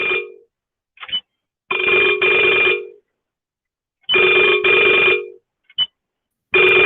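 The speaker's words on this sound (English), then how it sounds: "Somebody's phone is ringing." A telephone rings in repeated loud double bursts of electronic trilling separated by pauses, with short clipped tones in between and no other sound.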